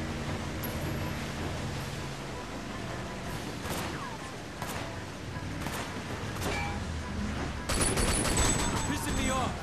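Scattered gunshots and a bright burst of firing in a Sleeping Dogs car chase, set against a continuous engine and road roar, with a louder stretch of shooting near the end.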